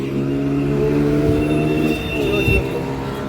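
A fast car speeds past on a seaside road at Marine Drive, its engine drone steady and loud, rising briefly as it passes amid steady traffic noise.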